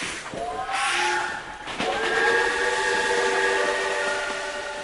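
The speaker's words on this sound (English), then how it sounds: "the Khyber Safari train runs through the rugged mountains of the Khyber Pass" A Khyber Safari train running through the rugged mountains of the Khyber Pass sounds a long, steady multi-tone horn or whistle over rumbling wheels, loud and fairly close, with no talk.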